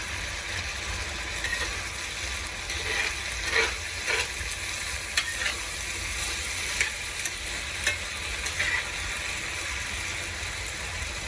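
Deer hash frying in a pan in a cabin, a steady close sizzle with repeated scraping and stirring clicks from a utensil scattered throughout.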